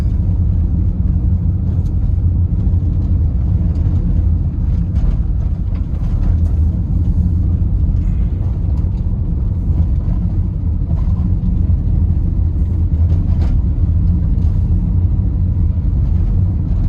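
Steady road traffic rolls through Santa Cruz, St. Elizabeth, Jamaica, a continuous low engine rumble with vehicles passing close by and no break in the noise.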